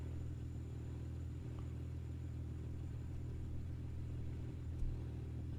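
A BMW M3 E36 with an S50 engine in Street Racer trim idles steadily in the driving game Assetto Corsa, a low, even rumble that stays constant and moderately quiet.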